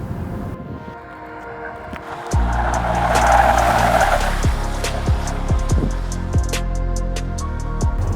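Hybrid Range Rover Sport cruising on a highway, a steady low engine and road drone with a sharp step up in intensity partway through, then continuous wind and tire noise with repeated clicks, no talking.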